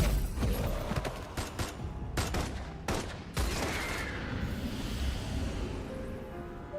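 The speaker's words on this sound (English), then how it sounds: "After a loud gunfire ends" A rapid volley of video game gunshots, several sharp bursts in the first few seconds, then a fading rumble and hiss as the firing stops.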